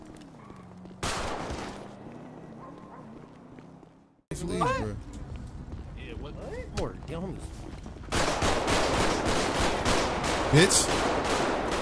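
Gunfire in a GTA V roleplay session, with bursts of rapid shots mixed among game noise and a person speaking, building to a dense, loud stretch of continuous firing near the end.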